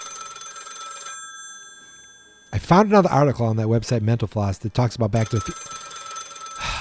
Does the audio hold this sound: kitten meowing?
no